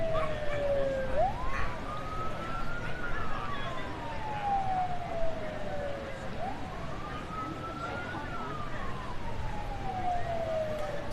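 Emergency vehicle sirens from fire and rescue apparatus in a Memorial Day parade wail in slow rising and falling sweeps, somewhat distant, over a steady outdoor rumble.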